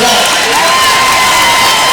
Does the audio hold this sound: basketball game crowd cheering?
yes